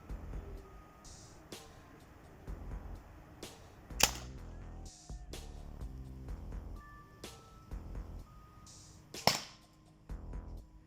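Umarex HDR 50 T4E CO2 revolver firing rubber-metal balls at a target, two sharp loud cracks several seconds apart amid quieter clicks, knocks and handling noises, with no talking.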